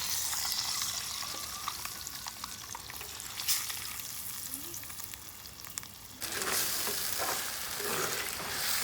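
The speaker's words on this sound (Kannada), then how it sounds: "ಈಗ ಮೊಟ್ಟೆ ಬೇಯಿಸಿರೋ ಎಣ್ಣೆಗೆ ಈರುಳ್ಳಿ, ಟೊಮೆಟೊ, ಕೊತ್ತಂಬರಿ ಸೊಪ್ಪು ಹಾಕಿದೆ" Onion, tomato and coriander leaves are added to hot oil left from frying eggs for an egg curry; a soft steady sizzle suddenly bursts into loud, crackling frying about two-thirds of the way through.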